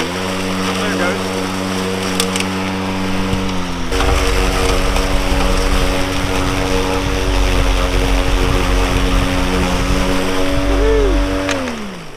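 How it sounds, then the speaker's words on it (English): A DeWalt 20V cordless lawn mower cutting thick grass, its steady motor whine throttling up partway through and staying loud and close, with someone talking over it. "when it gets into thicker grass, it actually throttles up on its own."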